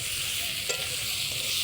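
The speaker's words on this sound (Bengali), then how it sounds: "এদিকে এখন আলু কষাচ্ছি।" Potatoes sautéing in a pot for a picnic meal, giving a steady close sizzle and crackle of frying with a brief stirring scrape partway through and no talk.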